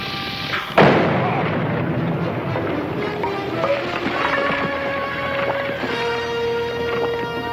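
A sudden loud dynamite blast bursts out near the start, followed by a long rumbling tail with ringing, clanking debris and noise.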